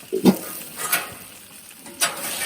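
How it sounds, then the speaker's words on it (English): Potatoes sizzle with garlic on a hot Blackstone griddle with a steady hiss, broken by a few scraping stirs and clinks of a spatula, close by. "Starting to sizzle a little bit."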